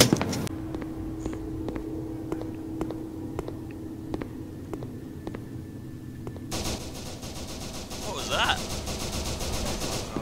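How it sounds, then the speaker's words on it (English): Video game gunfire sounds as rapid, evenly spaced shots in a steady burst, then as denser automatic fire, over a constant background rumble with voices talking. "I think they're shooting."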